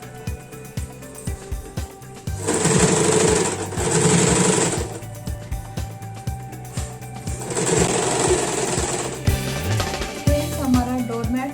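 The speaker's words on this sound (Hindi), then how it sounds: "स्ट्रिप को ऐसे इसके ऊपर लगा के सिल लेना है।" An electric sewing machine stitches a fabric strip onto a homemade doormat made from old cloth, running in two long loud buzzing bursts between slower single stitches and rattling pauses, close up with no talking.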